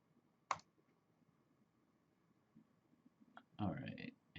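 A computer mouse clicks once, sharp and close, then a cluster of louder clicks and handling noise follows near the end, set against a quiet room hum while a network configuration menu is selected.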